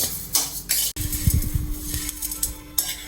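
Urad dal being dry-roasted on low heat in a pan, with repeated scraping and stirring clatter of a metal spoon against the pan, close and fairly loud, with faint sizzling between the strokes.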